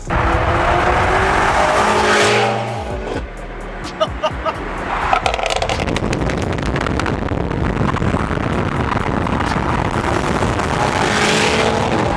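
A BMW F90 M5 twin-turbo V8 with aftermarket downpipes roars close by, its revs rising and falling with sharp blips and crackles, and voices can be heard faintly underneath.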